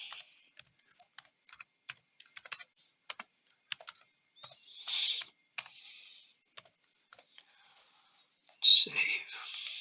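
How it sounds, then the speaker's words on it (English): Rapid clicking of keys on a computer keyboard in uneven bursts and pauses, close and fairly quiet, with soft breathy noise near the end. "up here I'm typing humbucker template"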